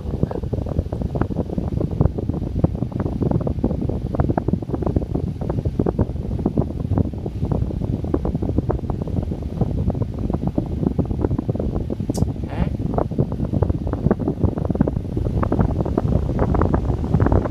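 A 1912 Westinghouse all-brass fan with a brush motor runs steadily, its low buzzing hum thick with rapid fluttering crackle from the brushes and a brief faint chirp near the end, with no talk.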